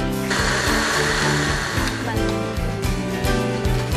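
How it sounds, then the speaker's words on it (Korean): A loud, continuous whirring blender purees cooked tomatoes, red onion, potato and garlic at close range, grinding steadily with a rhythmic churning pulse throughout and no pauses. "믹서기에 곱게 간다."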